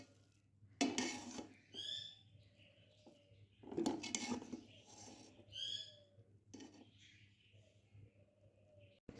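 Utensils clink and scrape against a pot while cooked matar gajar pulao is mixed and served out, in a few distinct bursts separated by quieter stretches.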